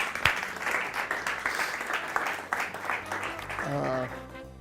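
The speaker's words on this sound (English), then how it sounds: "And let's give him a round of applause." An audience at a magic show applauds steadily for a few seconds, a dense wash of clapping that fades as a voice begins speaking at the end.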